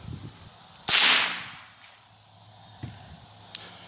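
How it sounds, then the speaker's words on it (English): A single sharp, loud rifle shot from an old engraved .22 squirrel rifle, a brief crack with a short decaying tail, followed by quiet with a couple of faint small knocks. "But let's put a round through that"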